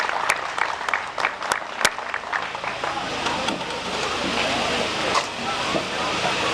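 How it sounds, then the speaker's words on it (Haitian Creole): Audience at a local political candidates' debate applauds, a continuous wash of clapping with some sharp individual claps, heard under an announcer speaking into a microphone. "demandez-nous un gros applaudissement pour tout le monde qui est officiel là"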